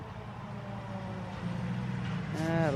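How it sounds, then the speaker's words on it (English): Loud, noisy truck rumbling past a cemetery, its low engine drone building steadily over a few seconds, with a brief brake hiss or horn-like tonal sound at the end. "Loud, noisy truck."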